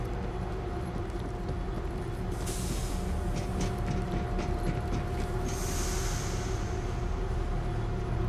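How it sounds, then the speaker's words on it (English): In the World War Z video game, a train starts up and runs with a steady low mechanical rumble and hiss, a few sharp clanks and a brief airy burst partway through. "Start up the train!"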